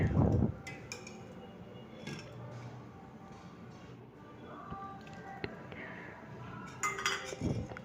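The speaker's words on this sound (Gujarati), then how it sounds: "બાકીનું બધું દૂધ ને આ મલાઈ મિક્સ કરી દઈશું" Leftover milk and malai cream get mixed in a bowl with a spoon, giving scattered clinks and scrapes of utensil on dish, fairly quiet, with a couple of louder knocks near the start and end.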